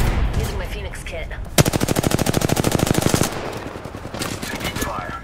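Apex Legends gunfire: a sharp opening shot leads into a fast, loud burst of automatic fire lasting nearly two seconds, with scattered game sounds and distant effects before and after it.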